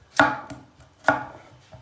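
Two sharp knife chops on a cutting board as vegetables are chopped, about a second apart, close and crisp, with quieter taps in between.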